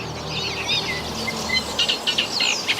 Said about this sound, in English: Reed warbler.